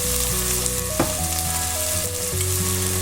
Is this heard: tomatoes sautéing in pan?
yes